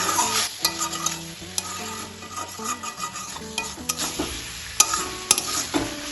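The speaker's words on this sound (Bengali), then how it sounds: "ধনেপাতা কুচিটাও মিশিয়ে নেব" A spoon stirs egg and brinjal curry through freshly added chopped coriander, scraping and clinking in the pan over a steady sizzle, with several sharp knocks near the end.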